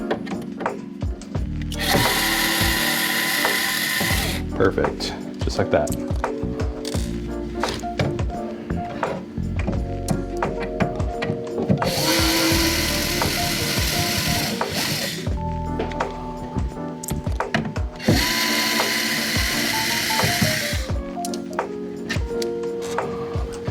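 A power drill removing screws whirs in three sustained bursts, close by, with short clicks and thunks between runs and a brief spoken remark.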